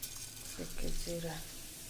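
Cumin seeds dropped into hot oil in a pan while cooking upma, a faint crackling sizzle alongside a brief clink of a utensil, with a short muffled voice-like sound in the middle.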